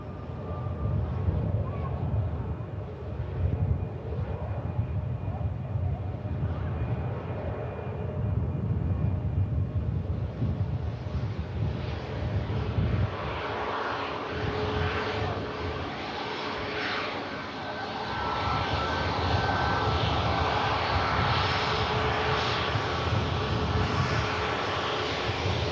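Emirates airliner pushing back at an airport, with a broad, continuous jet engine roar and rumble at moderate distance throughout, swelling slightly in the second half.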